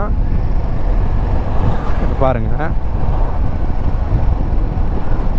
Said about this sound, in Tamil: இப்போ வந்து இன்ஜின் வந்து லக் ஆகுது.